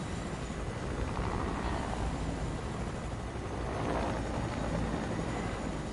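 A helicopter in a video game gives off a steady, fairly loud rotor and engine drone that stays even throughout, with no one talking over it.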